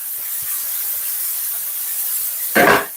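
Spring onion goes into a hot pan of beef stir-fry, with a steady background hiss building to one short, loud, close sizzle burst near the end.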